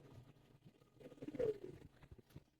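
Pigeons of fancy breeds such as Army, Silver and Lalpaowi, held at a pigeon seller's, give soft, low cooing calls that rise briefly in the middle before fading, fairly near and quiet.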